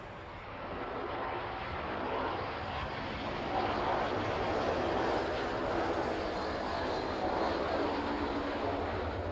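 A Bombardier aircraft arriving to land at East Midlands Airport, a steady distant engine roar that swells gradually, heard from outdoors with no talk over it.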